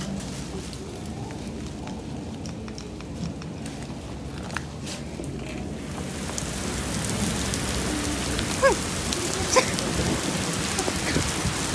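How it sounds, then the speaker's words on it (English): Heavy rain pours steadily as a dense, constant wash that grows louder partway through, with scattered drops and possible low rumbles of thunder underneath. "It's raining really hard."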